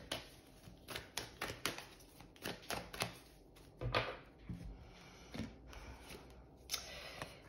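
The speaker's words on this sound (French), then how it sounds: "On va regarder un petit peu ce qu'on peut vous donner en carte de conseil" Oracle advice cards being shuffled and drawn by hand: a close run of crisp papery flicks, riffles and snaps in irregular bursts, with no talking.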